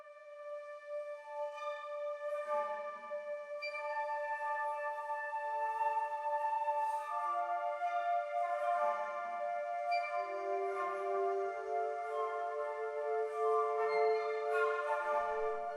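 High woodwinds from the Spitfire Albion V library play an overblown articulation, shifting breathy flute-like tones that overlap in a slow, calm, close melody with no voices.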